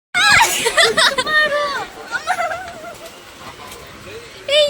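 Pigeons coo and chatter nearby at Mantralaya over a busy background of babble and bird calls, the cooing rising and falling in short bursts.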